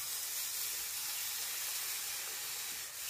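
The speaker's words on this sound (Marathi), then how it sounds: "तर आता पाणी घालूया।" Water poured into hot masala for a fish curry, giving a steady loud hiss and sizzle of steam that holds for a few seconds.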